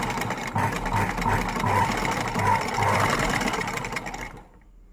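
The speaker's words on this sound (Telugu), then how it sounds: "ఇలా లోపలికి ఫోల్డ్ చేసి లైనింగ్ స్టిచ్ చేస్తున్నానండి." A sewing machine runs steadily while stitching the folded-in lining of a two-layered gathered frock, a close, even mechanical whir that stops abruptly near the end.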